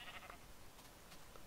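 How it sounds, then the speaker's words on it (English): Sheep bleating in the video game Minecraft, a couple of short faint bleats over a constant, loud background hiss. "Ooh, a sheep."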